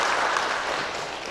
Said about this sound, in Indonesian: Saya pikir tepuk tangan untuk FKUB